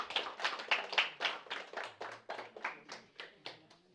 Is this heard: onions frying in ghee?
no